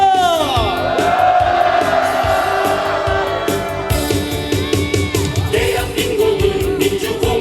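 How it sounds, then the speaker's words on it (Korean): A large crowd at an outdoor candlelight rally in Gwangju roars, shouts and cheers in a loud, sustained collective cry, with whoops rising above the din. "남재준 파면의 의지를 담아 함성 시작!"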